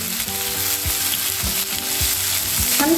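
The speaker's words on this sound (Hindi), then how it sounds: "अब हम इसी ऑयल में डालेंगे हाफ टी स्पून जीरा, 1 तेजपत्ता, 1 मीडियम साइज के प्याज बारीक कटे हुए।" Finely chopped onion, cumin seeds and a bay leaf frying in hot oil for a soya chunk curry, a loud steady sizzle broken by regular scraping stirs of a spoon in the pan, with no talking.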